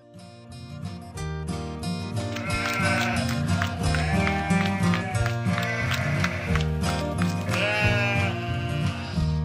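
A young lamb bleats repeatedly in an animated fairy-tale cartoon, the calls sitting over a continuous bed of background music that stays loud throughout.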